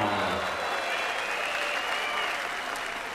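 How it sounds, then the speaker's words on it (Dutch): Audience at a 1998 Amsterdam fighting event applauds for a heavyweight competitor, a dense, steady wash of clapping from a large crowd, held at even loudness for a few seconds. "let's give him a big, big applause here in Amsterdam, a big sporting applause for Tsuyoshi Kosaka"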